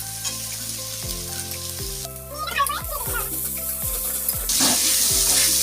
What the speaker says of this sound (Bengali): আমি রসুন বাটা আর আদা বাটাটা দিয়ে দেবো